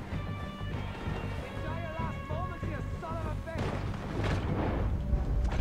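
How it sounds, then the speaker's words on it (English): Rifle shots and battle noise in the video game Red Dead Redemption 2, with booming gunfire and rumbling blasts mixed under a busy, loud soundscape and voices. "the rifle shots are wicked"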